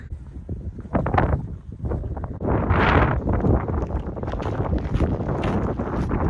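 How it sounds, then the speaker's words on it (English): Strong gusts of wind buffet the microphone in loud, rumbling waves that rise and fall throughout, outdoors near cattle on a walk to an abandoned church, with no clear voices. "Really windy today."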